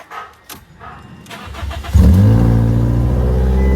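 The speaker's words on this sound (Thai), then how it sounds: "อ่ะป่ะเดี๋ยวลองสตาร์ทกันครับ" A Ford Fiesta with a swapped Toyota 1NZ engine and manual gearbox cranks briefly after a few clicks, then catches and settles into a loud, steady idle close by.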